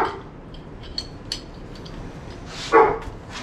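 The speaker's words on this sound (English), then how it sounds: "Dog's having a panic attack for some reason." A dog barks once, moderately loud and a short distance off, after a few faint clicks and ticks over steady background noise while work on a 1978 Ford Bronco winch goes on; no one speaks.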